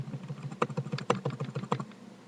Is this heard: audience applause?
no